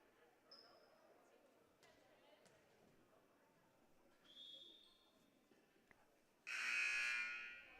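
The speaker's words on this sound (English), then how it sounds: "Buzzer goes." A long, loud electronic buzzer sounds in a school gym during a high school volleyball match, coming after quieter court noise, squeaks and a shorter tone, with faint crowd sound underneath.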